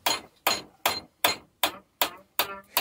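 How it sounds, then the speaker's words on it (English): Seven sharp hammer strikes land at a steady rhythm on a length of threaded rod being bent into an L shape for a DIY pergola build, each a loud metallic impact with a short ringing decay and no talk. "Bend some threaded rod into an L shape."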